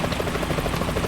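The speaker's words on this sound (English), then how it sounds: "Is that a chopper I just heard?" A helicopter in the video game Metal Gear Solid 2 thuds with rapid, steady rotor beats, loud and close throughout the brief moment.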